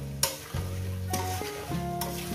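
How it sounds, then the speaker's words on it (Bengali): Katla fish head with turmeric frying in a pan for a chorchori with pumpkin and Malabar spinach: close, steady sizzling with a couple of sharp stirring knocks, fairly quiet and without speech. "দিয়ে মিনিমাম 3-4 মিনিট কি 5 মিনিট ভেজে নেবো"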